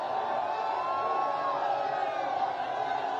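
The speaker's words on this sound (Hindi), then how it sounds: "ये देखिए किस तरह से मोदी मोदी के नारों के बीच प्रधानमंत्री नरेंद्र मोदी का ये रोड शो आगे बढ़ता हुआ" Large crowd chanting Modi's name at Prime Minister Narendra Modi's road show in Bikaner, Rajasthan, a steady distant roar of massed voices and cheers with someone talking over it.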